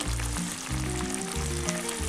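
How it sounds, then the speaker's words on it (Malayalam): Chicken tikka masala gravy bubbling in a pan with added water just coming to a boil, a steady close sizzle and hiss with faint stirring, no voices. "അപ്പോൾ അത് തിളച്ച് തുടങ്ങിയിട്ടുണ്ട്."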